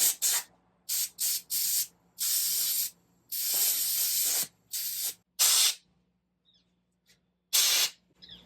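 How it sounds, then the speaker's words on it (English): A compressed air hose blows in sharp hissing bursts while new levers are fitted on a Raptor 250 motorcycle, with several short and longer blasts separated by silence and no speech. "We'll give this air hose trick a try."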